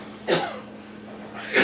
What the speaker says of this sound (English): My husband got strangled on his tea a little bit